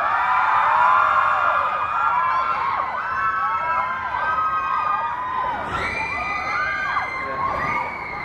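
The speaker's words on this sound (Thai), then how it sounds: "ขอบคุณเสียงปรบมือ" A crowd of fans screams and cheers nonstop at an outdoor concert during the City Walk Parade of Joy event, with high-pitched shrieks and whoops rising and falling in a dense, loud wash.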